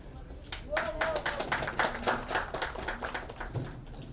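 Audience applause at the launch of Ted Baker London watches with actress Vaani Kapoor: a close, lively patter of many hands clapping, building quickly and holding steady, with a voice briefly audible in the mix.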